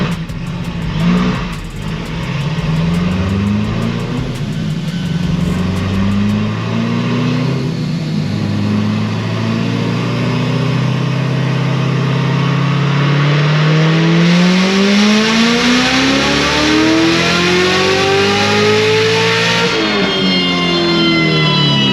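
A supercharged LT4 V8 with a 2650 Magnuson supercharger revving on a dyno, a loud engine climbing steadily through a long pull with supercharger whine, then dropping off at the end.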